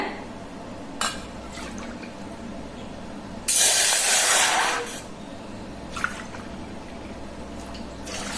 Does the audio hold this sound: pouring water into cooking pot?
yes